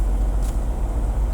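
A large vehicle rumbles past nearby, a steady low road noise with engine drone, no talking.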